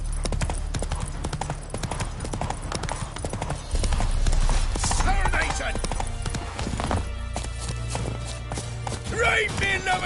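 Roach, a horse in The Witcher 3, gallops with rapid rhythmic hoofbeats over game music and ambience, with a voice speaking over parts of it and the pace briefly easing midway.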